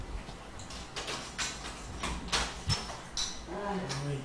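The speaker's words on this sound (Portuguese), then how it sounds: "Pera só um pouquinho que eu vou abrir a porta aqui." An indoor door being opened, heard as a scatter of soft clicks, knocks and handling noises at moderate level, with a faint tonal hum toward the end.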